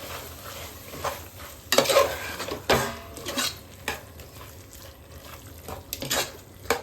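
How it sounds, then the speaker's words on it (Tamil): A spoon stirs a chicken biryani mixture with lemon juice in a cooking pot, with repeated close scraping and clanking against the metal and a light sizzle underneath. "ஆட் பண்ணி நல்லா மிக்ஸ் பண்ணி விட்டுக்கணும்."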